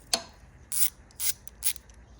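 Ratchet wrench loosening bolts on a Royal Enfield Himalayan engine during a valve clearance job, heard as one sharp click followed by three short bursts of rapid clicking, close and moderately quiet.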